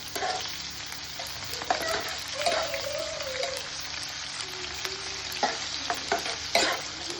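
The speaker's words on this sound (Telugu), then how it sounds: "కరివేపాకు వేసి బాగా తాలింపు వేగించాలి" Onions, green chillies and curry leaves fry in oil for a peanut tempering, a loud close crackle and sizzle with repeated stirring scrapes and a few sharp pops, no voices.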